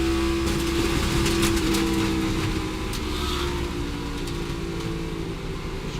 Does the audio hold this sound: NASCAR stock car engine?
yes